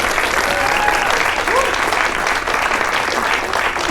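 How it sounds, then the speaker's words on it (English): Dense applause from an audience at a political event in Oklahoma, welcoming a congressman; steady, full crowd clapping with a few voices or cheers mixed in, loud throughout. "Please give it a round of applause"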